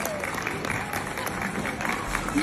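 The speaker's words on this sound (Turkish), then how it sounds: "Kocaman alkış. Maya Başol için kocaman." Crowd applause at Maya Başol's award ceremony, a continuous wash of clapping at moderate distance with a murmur of voices beneath it.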